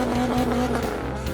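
A drift car's tires squeal in a short, loud burst over the steady drone of its engine, heard close up.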